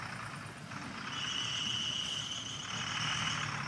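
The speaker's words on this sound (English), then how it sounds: "So the truck is coming!" An old truck arriving at a pigeon race in Germany, its engine idling and rumbling steadily with a thin, high whining squeal running over it throughout.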